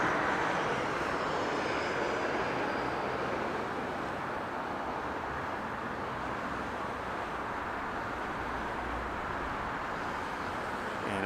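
An airliner in retro livery at Las Vegas Harry Reid International Airport gives a steady, fairly faint jet rumble that slowly fades over the stretch.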